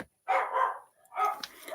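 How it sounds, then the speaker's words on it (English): A dog barks indoors, two loud yapping bursts separated by a short pause, close by and heard on its own. "Like the dog's barking."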